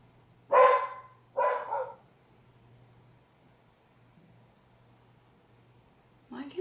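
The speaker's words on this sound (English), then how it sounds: "now my dog's barking" A dog indoors gives two loud, close barks about a second apart, followed by a long quiet stretch over a low hum and then a third bark at the end.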